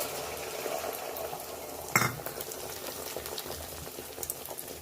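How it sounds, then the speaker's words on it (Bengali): An egg drops into hot oil in a kadai with one sudden sizzle burst, and the quieter frying crackle carries on afterward. "কড়াইতে চলে গেল ডিম।"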